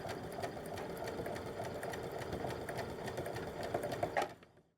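A sewing machine bastes elastic onto the waistband of an A-line pull-on skirt, running in a steady, close, rapid mechanical whir for several seconds before it slows and stops at the end.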